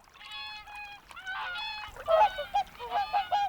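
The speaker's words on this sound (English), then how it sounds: "in the spring, their trombone-like calls can once again be heard" Whooper swans give bugling, trombone-like honks in the Baltic wild between Finland and Sweden, several birds calling in overlapping bursts, moderately close and with no voices.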